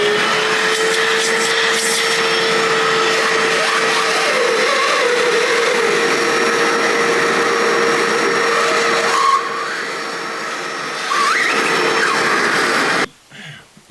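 A Bissell Little Green portable spot cleaner runs its suction, giving a steady loud whine and airy hiss that dips briefly and then cuts off at the end.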